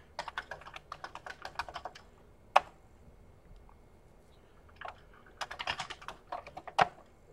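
Keys clatter on a Commodore 64 keyboard while an email is typed, a quick run of close clicks, a pause, then a second burst with a couple of heavier thumps, no voices.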